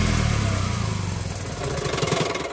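A used car with a rusted, broken exhaust bracket runs with a rough, throbbing engine rumble that pulses steadily and close by, with no voices over it.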